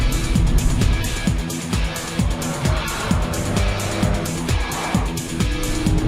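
Audi supercharged 3-litre V6 TFSI engine in dynamic mode, a loud car driving hard with repeated rising engine sweeps through gear changes, close and continuous.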